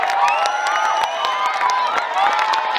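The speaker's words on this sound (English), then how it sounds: "The crowd were loving it, and so was I." Spectators at a Celtic festival sack race cheer and shout in a dense, lively burst, with many overlapping voices and whoops close by.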